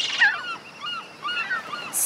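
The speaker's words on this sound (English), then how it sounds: "Seagulls are predators of baby sea turtles." Seagulls calling over a beach, a series of short, thin, rising-and-falling cries repeating at moderate distance, fairly faint against a quiet background.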